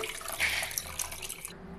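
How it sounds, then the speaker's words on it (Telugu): Soaked tamarind extract is poured into a cooking pan with spiced masala, a short close splash and pouring rush that fades out after about a second and a half. "ఇప్పుడు ముందుగా మనం నానబెట్టుకున్న చింతపండు పులుసుని వేసుకోండి"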